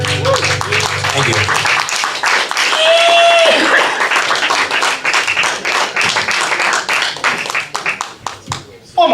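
Open mic audience at the Brew House Gallery claps and applauds, with dense clapping throughout and a host speaking over it.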